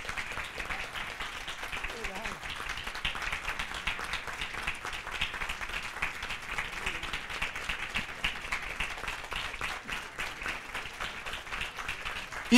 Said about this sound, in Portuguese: apoiado por unanimidade, com auditório de pé em aplausos